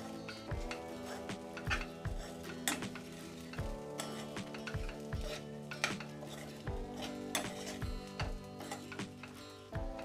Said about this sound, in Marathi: त्याला पण छान मिक्स करून घेऊया।